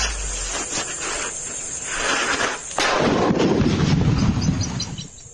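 A large illegal firecracker explodes: a loud burst of crackling, roaring noise erupts and swells midway, then fades, with a steady high hiss in the background and no talk.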